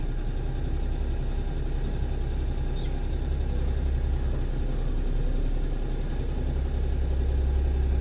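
A car engine with an HKS turbo timer fitted idles steadily, a low, even mechanical drone holding at constant level throughout.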